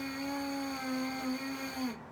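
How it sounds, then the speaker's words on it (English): A steady brass mouthpiece buzz held on one clear pitch for about two seconds, bright and close with rich overtones, ending abruptly. "We're going to take a nice deep breath in and make a clear buzz."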